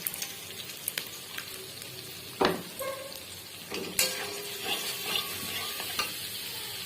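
Fried onion and tomato paste stirred into sizzling masala for katla kalia, a quiet bubbling sizzle broken by a few sharp utensil knocks and scrapes against the pan.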